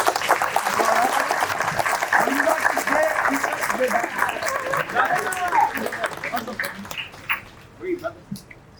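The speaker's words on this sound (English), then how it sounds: "we should give them a round of applause for them" Graduation ceremony audience at ECMS-G 2024 gives a round of applause for teachers, a full crowd clapping loudly, then thinning into scattered, fading claps near the end, with some voices mixed in.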